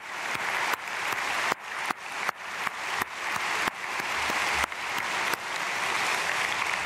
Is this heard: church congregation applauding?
yes